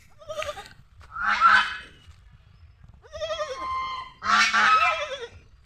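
Ducks on a foggy winter morning by a riverbank call in a series of four harsh, nasal honking bursts, fairly close and clear against a quiet background.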